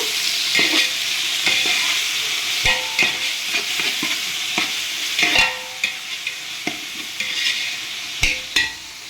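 Chopped tomatoes, about half a kilo, sizzle steadily in a hot pan as a utensil stirs and scrapes them, with repeated clinks and knocks against the metal throughout.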